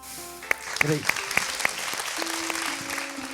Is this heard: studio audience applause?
yes